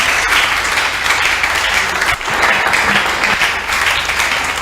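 Steady applause fills a church as the congregation claps before a teaching begins, a loud, dense, continuous patter from many hands with a brief dip midway.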